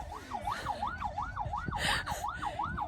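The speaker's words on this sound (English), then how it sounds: "they've got the sirens going." A wailing siren rises and falls in a quick, regular cycle, somewhat distant and steady, with faint traffic noise underneath.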